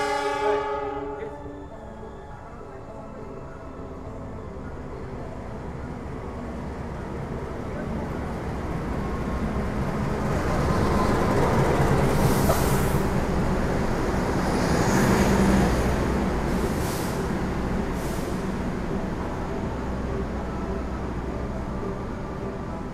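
The Gunung Jati passenger train arrives at Jatibarang station at night, a horn note at the start followed by a growing rumble and screeching of wheels as it rolls in. Talk can be heard over the noise.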